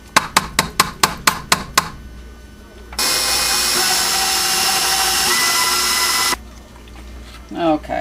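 Seven sharp, evenly spaced taps lead into an electric mixer churning double chocolate cookie dough, a loud, steady whirring drone lasting a few seconds before stopping abruptly.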